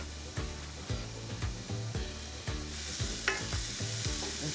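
Leeks and garlic sauté in hot olive oil in a pan, a steady sizzle with rhythmic stirring and scraping strokes, close and continuous without talk.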